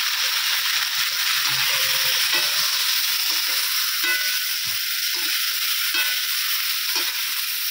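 Salted cauliflower florets fry lightly in hot oil in a pan, giving a loud, continuous sizzle close up, with occasional soft scrapes and knocks as the pieces are stirred.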